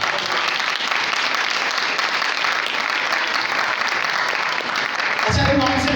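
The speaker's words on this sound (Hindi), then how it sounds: "ताली बजाकर।" An audience claps steadily and loudly throughout, a dense continuous applause at a New Year's church gathering, with a low boom entering near the end.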